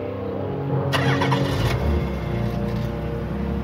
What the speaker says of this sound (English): The kidnapper forced the young sister into the family's car and sped off.